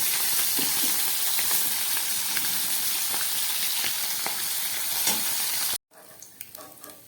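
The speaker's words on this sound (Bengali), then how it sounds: "সমস্ত মাছগুলোকে আমি খুব ভালো করে ভেজে নিলাম।" Fish frying in hot oil gives a steady, dense sizzle with small crackles and stirring clicks, then cuts off abruptly near the end, leaving a quieter background with a few soft kitchen knocks.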